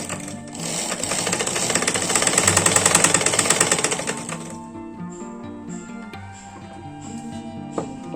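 Sewing machine stitching lace onto a simple designer blouse, running in a loud, fast, continuous mechanical rattle for about four seconds before dropping to a quieter hum with soft scattered clicks.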